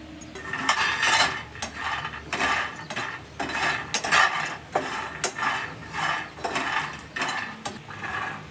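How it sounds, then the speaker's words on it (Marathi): Peanuts dry-roasting in a pan, stirred with a utensil: repeated scraping and rattling strokes in a steady rhythm, close and fairly loud, with no talking. "इथे मी एक वाटी भरून शेंगदाणे घेतले ते आता मी भाजून घेणार आहे"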